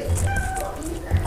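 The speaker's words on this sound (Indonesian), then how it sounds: "Itu kucing emang susah teman-teman." A cat meows indoors during a lunch of mixed vegetables and red chili sambal, its short cries faint and partly masked by voices and the clatter of people eating.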